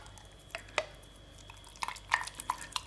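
Spoon or utensil clinks and taps against a bowl while ingredients are mixed, a turmeric recipe in a home kitchen; sparse, close knocks and scrapes in irregular bursts, no talking.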